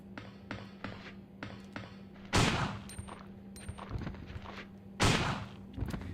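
Gunfire in Resident Evil 2 on PS3, a run of quick sharp shots followed by two heavy, booming blasts a few seconds apart, with thuds between them.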